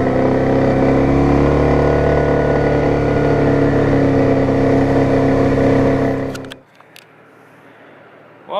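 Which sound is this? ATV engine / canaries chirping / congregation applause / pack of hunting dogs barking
ATV engine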